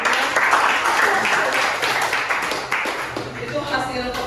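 A classroom of students applauds a group after their presentation, a steady wash of clapping that runs throughout with voices mixed in.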